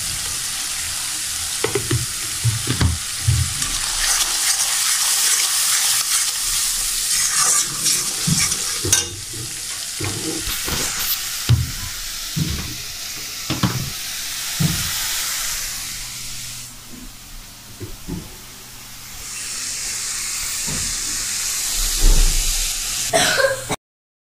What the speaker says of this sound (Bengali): তো দেখেন সবাই আমার মশলাটা কষানো হয়ে গেছে